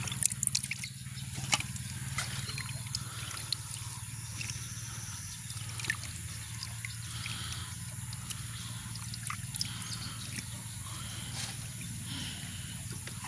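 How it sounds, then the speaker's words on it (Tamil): Squid is washed in water by hand, with soft trickles, drips and light splashes over a low steady background hum, faint and close. "கணவாயை நல்ல வடிவாக கழுவி எடுப்போம்"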